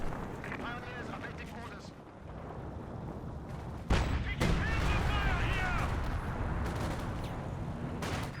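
Artillery barrage in Company of Heroes 2 striking among gunfire: steady battle noise, then a sudden loud blast partway through that opens into a sustained, heavy rumble of explosions and fire.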